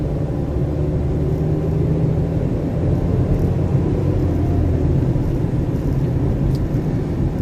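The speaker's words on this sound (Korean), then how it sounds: "자, 이제 엑셀 밟아서 속력을 내줍니다." A car pulls away and gains speed on a driving test course, a steady low engine rumble and road noise holding close and even throughout, with no talking.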